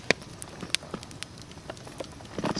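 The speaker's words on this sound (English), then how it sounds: "We got rained out" Rain falls on a tent during a camping trip, scattered drops pattering and ticking on the fabric close by over a soft steady hiss.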